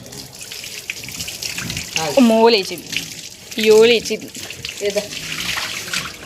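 Tap water runs steadily during a dog's bath with anti-tick shampoo, a continuous splashing flow beneath excited voices talking.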